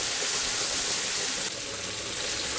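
Spice paste frying with potatoes in a pan over a medium flame gives a steady, close sizzle with a hiss that holds evenly throughout and dips slightly partway.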